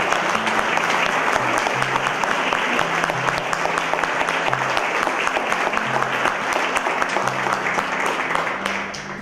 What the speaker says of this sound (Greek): να ζητήσω ένα πολύ μεγάλο χειροκρότημα για όλους εσάς τους πρωταγωνιστές της ελληνικής παραγωγής